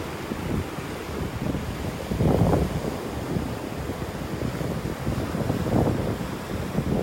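Wind buffets the microphone while waves wash onto the beach at Wiggins Pass in North Naples, a continuous rough roar swelling in a couple of surges, no talking.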